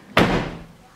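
A rusty junkyard car door swings shut with a single loud, close metallic thunk that fades quickly into quiet.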